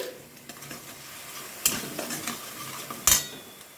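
Sugar caramelizing with ginger paste in a pan over low heat, stirred with a utensil: a soft continuous sizzle with two sharp scraping clinks of the spoon against the pan.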